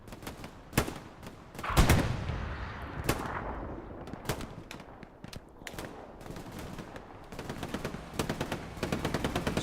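Machine gun fire in a Hell Let Loose battle, loud bursts of rapid automatic shots mixed with single gunshots and heavier booms, some close and others more distant, continuing without pause.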